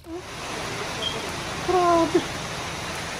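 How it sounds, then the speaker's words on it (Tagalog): Rain falls outdoors around a pigeon loft in New Zealand: a steady, even hiss throughout, with a short spoken exclamation and a few thin tonal calls over it. "Umuulan na."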